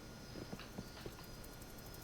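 Horse hooves clip-clop faintly in a Wild West video game, a few soft, evenly spaced hoof beats over a steady background hiss.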